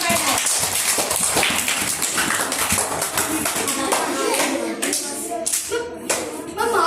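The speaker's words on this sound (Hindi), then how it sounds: "ताली हो जाएगी" Children clap together during a school library activity in a primary-school classroom, a brisk run of sharp, close hand claps with a few scattered taps and shuffles as it trails off.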